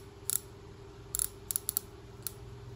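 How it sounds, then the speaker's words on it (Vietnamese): A Ryobi Carbonate 200 spinning fishing reel, size 4000, gives a handful of sharp, quiet metallic clicks from its bail, spaced irregularly over a low steady room hum. "đây là tiếng lưỡi gạt của máy nha"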